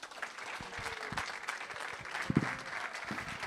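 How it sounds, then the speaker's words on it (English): An audience at a table tennis health congress gives sustained applause, a dense wash of clapping from a crowd of many hands, steady and fairly close for a few seconds with a few sharper claps standing out. "So let's welcome him with a big round of applause."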